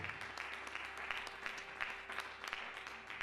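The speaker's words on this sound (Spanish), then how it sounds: "Denle un aplauso al Señor, porque para Él, para nuestro Dios, nada hay imposible." A church congregation applauds during a Spanish-language Christmas sermon, its clapping quiet and fairly distant, forming a brief, even patter with no voices over it.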